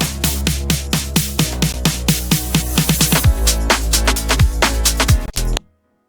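A modified drum-and-bass snare from the Kick 3 plugin repeats in a rapid, steady synthetic pattern with a pitched, zinging tail, the hits rising in pitch and tightening before cutting off abruptly into silence.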